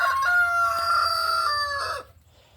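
A rooster crows one long, loud call at a small backyard chicken farm, close by with faint fowl sounds around it, then cuts off into near quiet.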